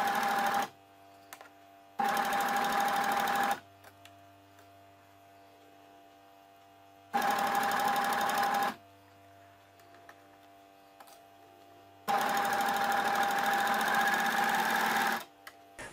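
An overlock serger stitching a t-shirt shoulder seam runs in loud, steady bursts of rapid whirring, starting and stopping several times with quiet gaps between, heard close up and without talk.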